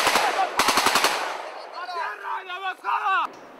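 Gunfire greets visitors at a Kaibil troop base in Guatemala: a rapid burst of loud shots, then a second volley of rattling automatic fire, followed by shouting voices.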